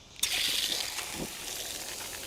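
Water starts flowing through a Thermomate portable outdoor water heater, a sudden loud gush that settles into a steady rushing stream.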